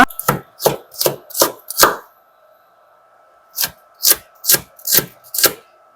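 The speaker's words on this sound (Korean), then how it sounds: "홍고추. 한번 다져볼게요" A knife minces red chili on a cutting board in two bursts of five quick, sharp, evenly spaced chops each, close and crisp, separated by a short pause.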